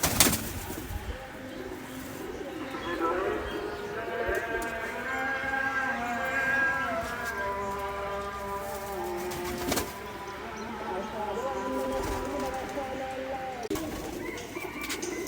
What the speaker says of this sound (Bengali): ভিউয়ার্স দেখুন আরও এক জোড়া গোল্ডেন কবুতর এরা ডিম নিয়ে বসে আছে